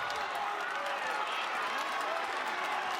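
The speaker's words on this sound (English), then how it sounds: "Nebraska crowd making some noise for Brock Hardy." Arena crowd at a Nebraska men's college wrestling dual against Iowa, a dense, steady roar of cheering and noise that holds loud and unbroken throughout.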